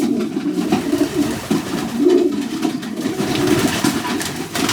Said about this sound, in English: that's a cracking wee pigeon